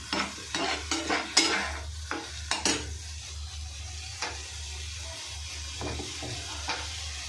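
Chilli, cumin and garlic paste stirred in a hot pan, with a spatula scraping and clacking against the metal in a run of sharp strokes over a low steady sizzle, heard close and without talk.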